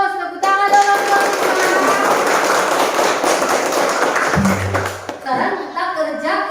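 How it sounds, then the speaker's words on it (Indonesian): Classmates in an Indonesian classroom clapping their hands together, a loud dense burst of applause lasting several seconds before fading, with a brief low hum near the end and voices around it. "Tepuk tangan dong teman-teman"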